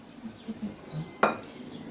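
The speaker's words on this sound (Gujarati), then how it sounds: "સરસ રીતે આ રીતે એને મિક્સ કરી લઈશું।" Dhokla batter mixed with Eno fruit salt in a bowl, soft swishing stirs followed by one sharp clink of a spoon against the bowl, quiet and close.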